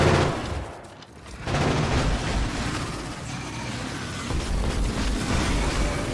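Sniper turrets in modded Factorio, with Bob's and Angel's mods, firing in a steady dense barrage of rapid shots, loud and continuous, with a brief lull near the start before the fire resumes.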